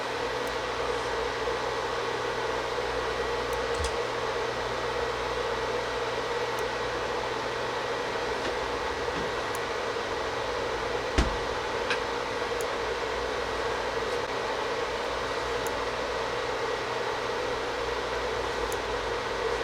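A steady broadband whir and hiss of an induction cooktop fan runs unbroken at medium-high heat under a glass moka pot, with a few faint ticks and one soft knock along the way.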